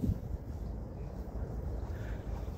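Strong wind at an outdoor pigeon racing loft in Madrid, Spain, a steady low roaring rumble of gusts buffeting the microphone throughout, with no voices heard.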